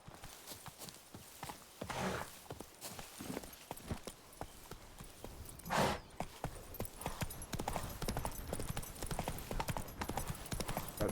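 Roach, the horse in the video game Witcher 3, gallops with rapid, steady hoof clip-clops that continue throughout at moderate volume, with a brief louder burst midway.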